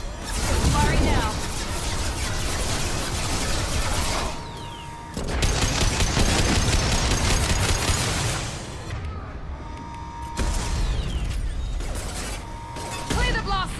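Weapons fire in Mass Effect 2 Legendary Edition in loud, sustained bursts of rapid mechanical shots with short pauses between them, alongside in-game voices.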